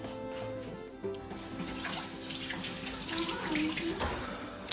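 Hands are washed under a running kitchen tap, a steady close gush of water splashing into a sink that swells slightly after the first second and carries on evenly to the end.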